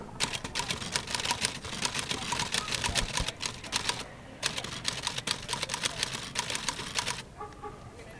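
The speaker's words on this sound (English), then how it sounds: "Can I record the sound of you typing?" Rapid, uneven clacking of a typewriter's keys at a farmers market, loud and close for most of the stretch, pausing briefly midway and fading near the end, with outdoor background noise.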